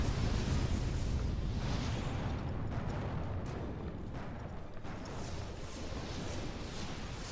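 Gatling cannon fire in the space combat game Between The Stars, a continuous loud rumbling barrage of rapid blasts that eases slightly midway and carries on steadily, with no voices.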